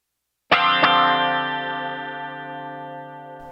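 A single electric guitar chord through a Line 6 Firehawk/AMPLIFi amp model with dotted-eighth delay and chorus, struck loudly and then ringing out, with a quick second repeat just after the attack before a long shimmering sustain.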